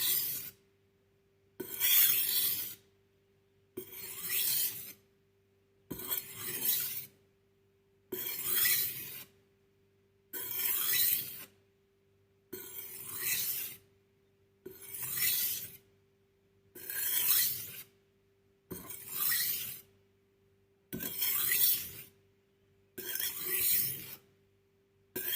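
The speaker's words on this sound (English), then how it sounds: "While sharpening, you will see a gray paste forming on the surface." Kitchen knife drawn across a wet whetstone, eleven regular rasping strokes about two seconds apart with short silences between, close and clear, no voices.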